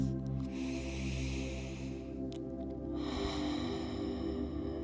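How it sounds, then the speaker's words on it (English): A long, slow, deep breath drawn in and let out during a calm guided mindfulness session, steady and close, with no talking over it. "Take a nice big deep breath."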